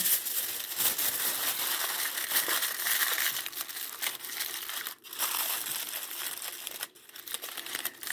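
Thick, dense aluminium foil being folded into envelope parcels in a kitchen, a steady close crinkling and crumpling that runs throughout with two brief pauses.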